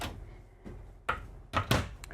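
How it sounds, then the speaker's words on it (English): Slide-out pantry drawers in a Newmar Ventana 4310 motorhome being moved, a few soft sliding rumbles and sharp knocks as the drawers open and shut, close up with no talk. "Slide out pantry drawers."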